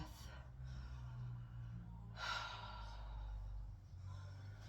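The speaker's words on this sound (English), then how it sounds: "Take a nice deep breath." One slow, deep breath drawn in and let out at the end of a home workout stretch, soft and close, with faint breathy sounds around it.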